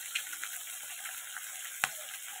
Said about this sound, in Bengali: মাছটাকে ভালো করে ভেজে নিই